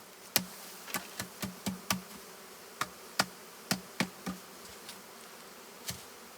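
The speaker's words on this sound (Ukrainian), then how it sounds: "Бачите, ще багато бджолечить." Carpathian honey bees on six hive frames being shaken off, with a steady low buzz running under a series of sharp, irregular knocks and taps from the frames.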